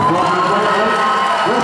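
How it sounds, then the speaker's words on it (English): A boxing crowd cheers loudly for the winner after a fight, a dense, sustained roar of shouts and whoops with some clapping. "Christian Hahn, and continue to applause the winner, Joshua Beltran."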